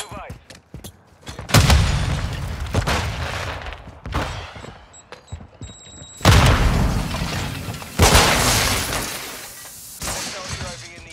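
In a Call of Duty match, heavy explosive blasts boom out in several loud bursts amid scattered gunfire and mechanical clatter, with a voice talking over the action.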